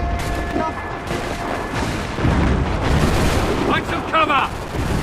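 Gunfire in the action game Assassin's Creed III: scattered rumbling shots and booms in a continuous battle din, with shouted voices cutting through the noise.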